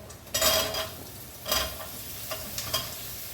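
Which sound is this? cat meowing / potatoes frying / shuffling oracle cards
potatoes frying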